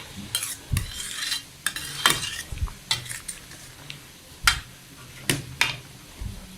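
Sayur lodeh with eggs cooking in a pot, heard as scattered clinks and scrapes of a utensil stirring against the metal over a low simmering background.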